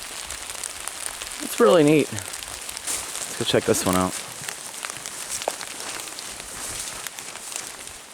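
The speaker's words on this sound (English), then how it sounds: "It looks like the rain's picking up." Rain falls steadily on a forest trail in Pennsylvania, a soft continuous patter throughout, while someone speaks and another short vocal sound briefly stands out.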